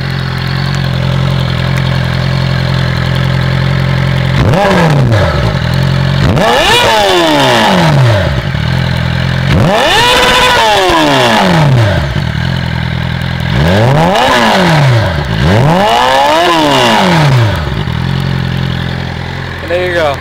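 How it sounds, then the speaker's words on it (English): Suzuki GSX-R600 K9 sport motorcycle with a custom exhaust, revved hard several times from idle, each loud rising and falling sweep separated by brief idle, recorded close and alone. "My GSXR with the new exhaust."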